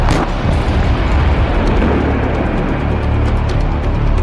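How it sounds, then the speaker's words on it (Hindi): A huge explosion near a dome in Moscow roars close and loud, its deep boom rolling on without pause as a sustained wall of low noise. "उसके गुंबद के पास होता है एक बहुत बड़ा धमाका"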